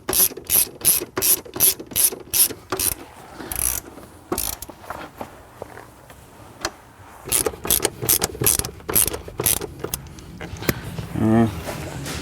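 A socket ratchet clicks in fast, regular bursts while tightening bolts on Recaro Sportster CS performance seats in a BMW E92 M3, heard close with pauses and further clicking runs later, and a person talks at times.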